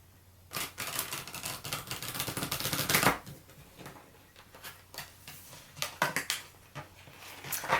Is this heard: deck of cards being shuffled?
yes